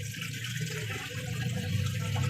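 Water pours and splashes steadily into a container of pork set aside to soak for sinigang, a close, continuous gushing and filling sound with no talk.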